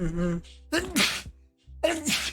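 A sharp sneeze bursts out, followed shortly by a second one, both close and loud with brief quiet between.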